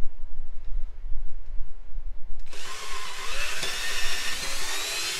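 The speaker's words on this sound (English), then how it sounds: "pre-drill some holes" A power drill whirs up to a high, steady whine as it pre-drills holes in 2x4 wood, starting after a couple of seconds of low background rumble.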